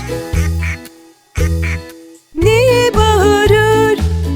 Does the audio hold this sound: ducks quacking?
yes